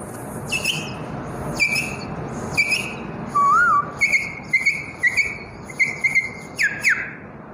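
A man whistles an imitation of a quail's call, a run of about eight short, bright whistled calls at a steady rhythm, with one longer warbling note in the middle. It is close and clear over a faint room background, with no talking.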